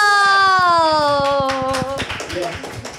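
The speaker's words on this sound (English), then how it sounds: "Applause!" A group of people claps in quick rhythmic beats at a Jakarta event welcoming a pro wrestler and heavy metal singer, while a loud sustained voice holds a long, slowly falling note over the claps before fading into looser clapping.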